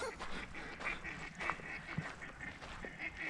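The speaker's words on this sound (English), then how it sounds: "You should be able to hear those quacks over there." Ducks quacking near a hiking trail in Clinch River State Park, a scatter of faint, distant quacks over soft outdoor background noise.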